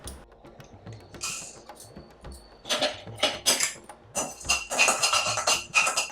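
Roasted toor dal, browned dry in a pan, is scraped and poured onto a plate, giving scattered scratchy rattles and small clinks of lentils and utensil against metal, close and fairly quiet with short pauses.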